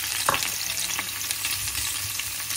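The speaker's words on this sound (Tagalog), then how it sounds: "magpiprito tayo ngayon ng tofu" Tofu frying in hot oil for pork adobo with sitaw, a dense, continuous close sizzle and crackle with occasional stirring knocks and spatters, no talking.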